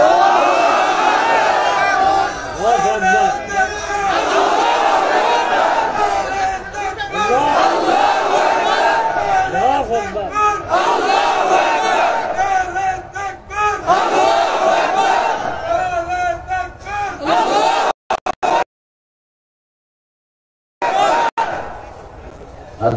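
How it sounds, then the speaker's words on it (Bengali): A large crowd at a religious gathering chants the takbir loudly in unison, voices rising and falling in repeated surging calls, followed by a brief silence and a short return of sound. "একটু জোরে তাকবীর দেন"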